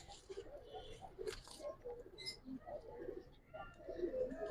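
Pigeons on a rooftop loft of giribaz silver and colored breeds coo softly in low, overlapping murmurs, with scattered higher chirps and flutters and faint voices in the background.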